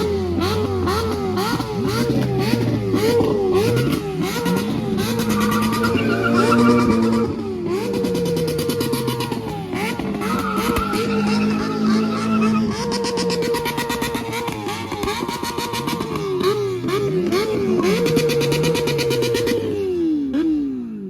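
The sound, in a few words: car engine revving at a car meet, thought to be turbo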